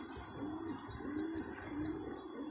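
Pigeons coo softly in repeated low, rolling calls over steady background noise, faint and without voices.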